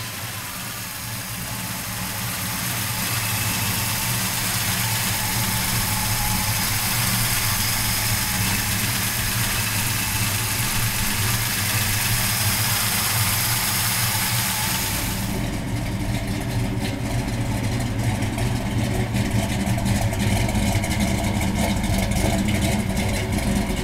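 A 1969 Dodge Charger restomod with a Hemi V8 idles with a deep, steady rumble, loud and close, swelling in the first few seconds and then holding a constant lopey idle with no talk.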